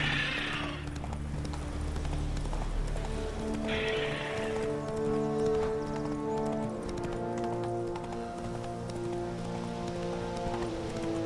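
A horse gallops in The Witcher 3 video game with steady, rhythmic hoofbeats, joined by rain falling and a brief whinny, plus a low continuous background hum.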